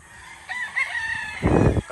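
A gamefowl rooster at a gamefarm crows once, close and loud, a rising then held call followed by a harsher burst at the end.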